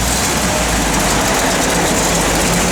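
A 1958 Chevrolet Apache pickup's engine idles up close, a loud, steady low rumble with no talk over it.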